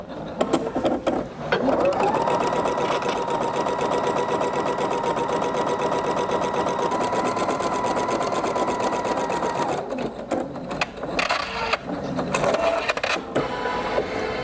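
A Husqvarna Viking Sapphire 85 sewing machine stitches a quilt block, running as a steady fast whir for about eight seconds, then stopping and starting in short bursts.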